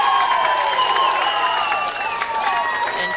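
A wrestling crowd at a live independent show applauds and cheers for Matt Cross, a steady wash of clapping and voices filling the venue throughout, with a slight dip partway through.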